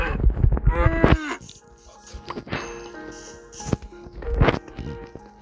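Cow in a video game mooing, two loud drawn-out moos near the start and again around the middle, with clanking and dinging game sounds between them.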